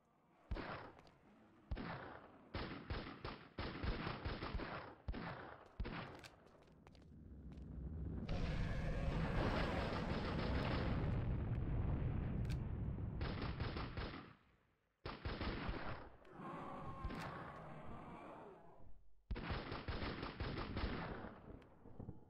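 Gunfire aimed at a dragon in the video game CastleMiner Z: loud repeated bursts of rapid automatic shots with short pauses, plus one long sustained roaring blast in the middle, no voices.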